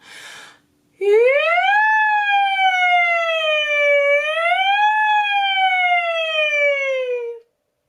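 A voice imitates a siren, sliding smoothly up, dipping, then rising again in a long sustained wail before stopping abruptly.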